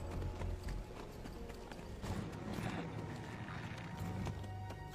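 Horse hooves clip-clopping at a steady pace as a rider travels along in a war film, dense with background sound and a steady rhythm of hoofbeats throughout.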